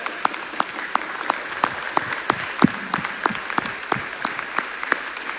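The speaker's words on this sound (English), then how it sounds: "Let's applaud them." A conference hall audience applauds pastors and Bible workers standing at a church quadrennial session, sparse rhythmic clapping of moderate loudness continuing steadily throughout.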